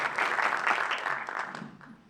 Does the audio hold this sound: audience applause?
yes